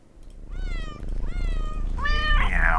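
Three drawn-out cat meows in a row, the last one rising into a sharper, brighter cry, each clearly separated and close up over a low background hum.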